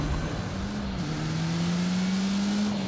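Alpine A110 mid-engine, rear-drive sports car in a racing video game, its engine droning steadily with a slight rise in revs, loud and continuous throughout.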